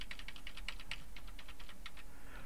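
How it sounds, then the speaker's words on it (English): Computer keyboard keys tapped rapidly again and again, a steady burst of light clicks at close range over a faint background hum, with no voices. "you're sitting there pounding on the keyboard, trying to move it a lot in one direction"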